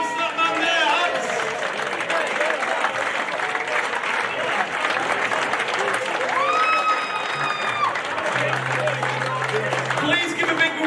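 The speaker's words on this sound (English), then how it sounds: "Please give a big round of applause to this gentleman here" A crowd at a football club's player of the season awards applauds, with steady, dense clapping throughout, overlapping voices and a brief whistle-like tone midway, plus a low hum near the end.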